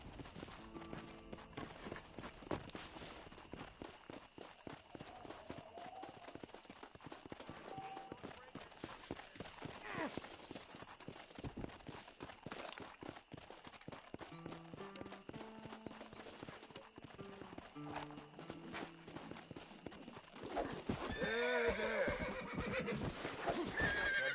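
A wild horse in the Red Dead Redemption video game whinnies and snorts over a run of clip-clopping hooves, with game voices talking alongside and the neighing growing louder near the end.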